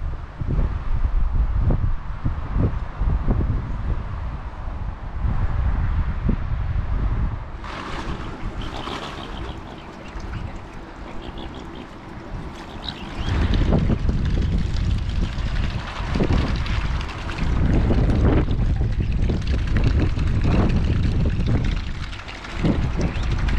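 Steady breezy wind buffets the microphone outdoors on the Norfolk Broads, a broad rushing roar with gusty swells and water lapping below, continuous and fairly loud with no voices.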